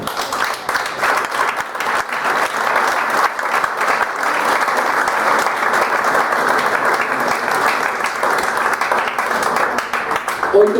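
A church congregation applauds during a sermon, producing a loud, dense wash of clapping that holds steady for about ten seconds with no clear break.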